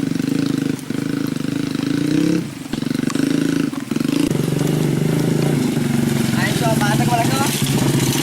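A trail motorcycle racing through a rice field drones and revs with a steady engine roar, while people talk loudly over it.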